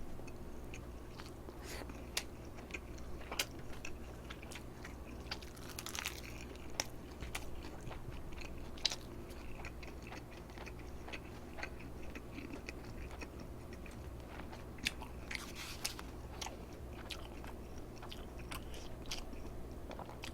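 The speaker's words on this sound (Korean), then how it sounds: "계란말이 하나 먹고" Someone eats a Korean rolled egg omelette, gyeranmari, at a mukbang meal with army stew, with soft close chewing and bite clicks repeating steadily over a quiet background.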